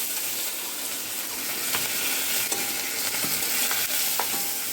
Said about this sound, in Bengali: দেখো একটা শুকনো লঙ্কা দিয়ে দেবো, সর্ষে দিয়েছি, আর দিয়ে দেবো কারি পাতা।